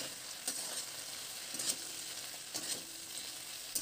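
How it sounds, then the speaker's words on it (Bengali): A spatula stirs vegetables with yam and taro as they fry in a pan, giving a steady close sizzle broken by several soft scraping strokes spaced about a second apart. "সবজিটা একটু ভালো করে নাড়াচাড়া করে নিচ্ছি।"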